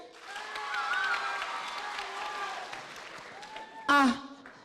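A debate audience claps to vote for one side: moderate, steady clapping builds and then tapers over several seconds, with voices talking over it and a sharp louder burst near the end.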